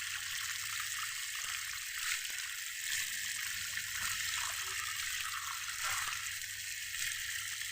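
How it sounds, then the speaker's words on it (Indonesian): Steady running water pours while free-range chicken heads are washed clean, a continuous close splashing rush with no talk over it. "Cuci biar bersih."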